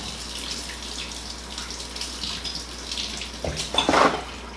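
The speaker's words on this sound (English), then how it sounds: "You can rinse it off." Water runs from a kitchen tap as a small item is rinsed under it, a steady close splashing hiss that grows louder and more turbulent near the end.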